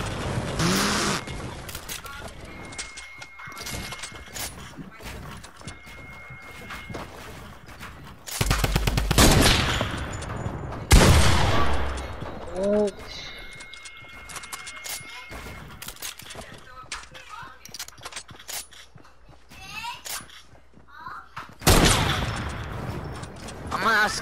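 Gunshots crack in a video game, with single shots and rapid bursts scattered through the clip and a few loud blasts standing out, while players talk throughout.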